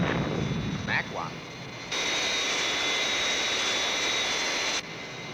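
A jet aircraft takes off in a Thunderbirds TV episode, with a loud, sustained roar that cuts in abruptly after a few brief chirps and holds steady for about three seconds before dropping away.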